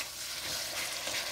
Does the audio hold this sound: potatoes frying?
yes